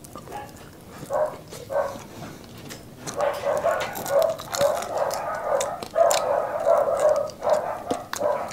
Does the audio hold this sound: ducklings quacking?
no